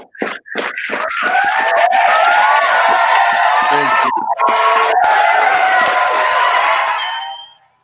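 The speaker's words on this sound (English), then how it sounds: "Can we clap it at one time for Drug Beats, please?" A podcast studio audience for the producer Drug Beats breaks into loud clapping, cheering and whooping right up close, building quickly and holding for several seconds before cutting off.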